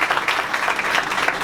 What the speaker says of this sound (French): je pense vraiment qu'on peut les applaudir parce que c'est vraiment eux